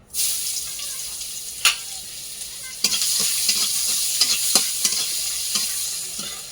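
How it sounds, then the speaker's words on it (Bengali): Onion and garlic fry in oil in a wok over a fierce fire, a constant loud sizzle broken by sharp clicks and knocks of a spatula stirring at irregular intervals. "তো কড়ায় তেল দিয়ে দিয়েছি, দিয়ে এবার পেঁয়াজ রসুন দিয়ে দেবো।"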